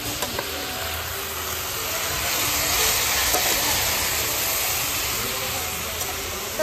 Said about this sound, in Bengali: তো এখানে এখন আমি চিচিঙ্গে ভাজছি